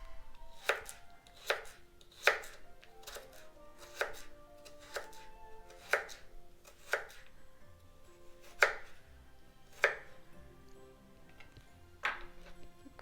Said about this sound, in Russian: Опять морковь порежем. Тоже на 4 части.